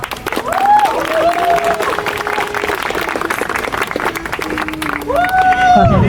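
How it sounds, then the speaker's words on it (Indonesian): A crowd claps and cheers at a student demonstration in Indonesia as officials arrive, loud and steady throughout, with an amplified voice and a tonal siren-like whoop running over the applause. "bisa tepuk tangan teman-teman."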